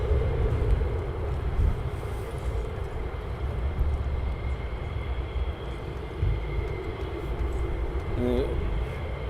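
A fighter jet lands at RAF Lakenheath, giving off a distant, steady low roar that holds for several seconds, with faint voices in the background.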